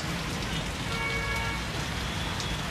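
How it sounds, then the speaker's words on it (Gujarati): Heavy rain pours down on the streets of Anand city in Gujarat, a dense, steady hiss of drops hitting surfaces, with a faint low rumble beneath it. "પ્રથમ વખત આટલી ગતિએ વરસાદ આણંદ શહેરની અંદર જોવા મળ્યો છે"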